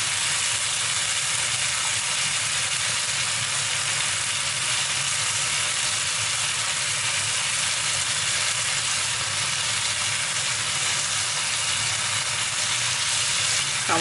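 Prawns fry in a hot pan with a constant, dense sizzle that holds steady and close throughout, with no talking.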